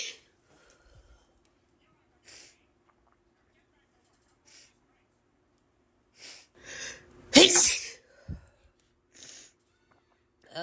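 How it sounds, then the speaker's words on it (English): An allergy sneezing fit: several short sneezes and sniffs scattered through a quiet room, building to one loud, forceful sneeze near the end, close to the listener with soft breathing between. "I seriously cannot stop sneezing."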